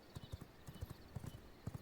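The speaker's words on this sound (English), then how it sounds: "I like to ride up here with a horse." Horse hooves clip-clop as a character rides in the V Rising video game, a quick steady rhythm of hoofbeats at moderate volume with no voices.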